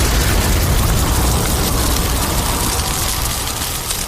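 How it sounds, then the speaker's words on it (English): A huge explosion of fire and smoke erupts beside a ship, a loud, dense, sustained roaring rumble that fills the whole span with broadband noise and barely fades. "there is a humongous explosion of fire and smoke"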